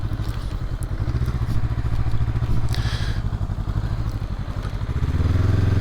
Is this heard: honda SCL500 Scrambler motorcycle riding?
yes